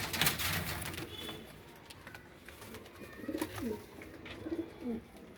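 Pigeons, including a blue pigeon, cooing in soft, repeated low warbling calls among rustling and background noise, fairly close, with several coos in the latter half.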